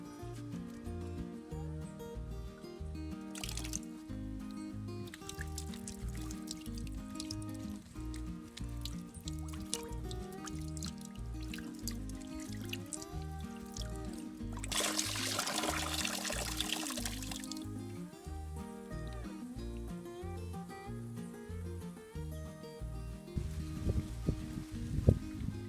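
Fresh turmeric roots being washed, with pouring and splashing water that swells in a short burst partway through, mostly beneath steady background music.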